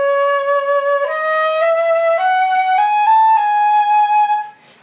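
First two bars of Andersen's etude No. 10 "Romanza" played without the grace note on a single melodic wind instrument: a slow line of sustained notes stepping gradually upward, clear and close with no talking.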